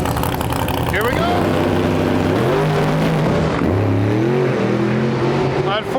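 A drag racing car at Gainesville Raceway launches hard down the strip with tire shake, its loud engine roaring and rising in pitch, then bogging and wavering as the driver lifts, with an announcer talking over it.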